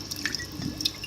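A jar that held thawed mysis shrimp is rinsed in aquarium water, giving soft irregular drips and splashes with light trickling, close and moderately loud, with no talk.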